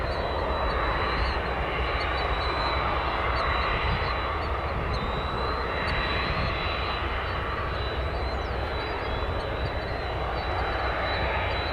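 A Boeing 767 jet airliner taxis at O'Hare Airport in Chicago, giving a steady, loud, broadband engine roar that holds unchanged throughout with a faint high whine on top.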